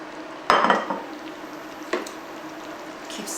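A spoon scrapes and clinks against a pot of Thai green curry with basil leaves, two distinct knocks a second or so apart over a soft simmering hiss, close and moderately loud.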